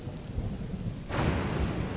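In the video game Zelda: Tears of the Kingdom, a heavy rainstorm hisses steadily until thunder from a lightning strike cracks in halfway through, leaving a louder broad rumble.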